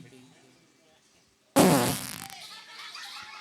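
A loud, close fart bursts out suddenly after a stretch of low background noise and voices, then talk and noise carry on behind it.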